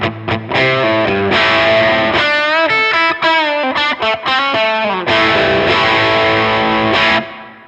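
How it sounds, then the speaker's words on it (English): Electric guitar through a Blackstar HT20mkIII amp on its overdrive channel, crunchy gain, playing loud chords and single-note runs for several seconds, alone and sustained before a final ringing fade. "So we've got a nice crunchy gain sound there."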